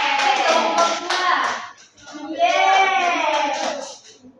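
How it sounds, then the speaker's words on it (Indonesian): Fifth-grade pupils clap together in an Indonesian language classroom, their hand claps blending with lively children's cheering and voices over about four seconds. "Tepuk tangan."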